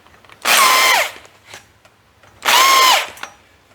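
A heavy drill bores out holes in metal parts of a 1940 coupe, two loud bursts of grinding whine about two seconds apart, each dropping in pitch as it bites, with short quiet gaps between.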